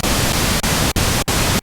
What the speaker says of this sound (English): Sounds a little like pink noise.